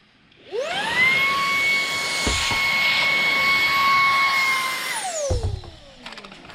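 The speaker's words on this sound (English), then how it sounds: "And then vacuum off your chips." A handheld vacuum cleaning up drill chips whirs up to a high whine, runs steadily for about four seconds, then winds down, followed by a few soft knocks.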